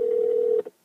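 Phone ringback tone playing through a Mercedes-Benz Bluetooth hands-free system in the car cabin, one steady electronic tone for about half a second, then a short blip before it cuts to silence.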